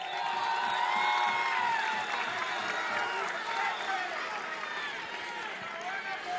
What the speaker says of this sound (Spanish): Un aplauso a nuestros hermanos indígenas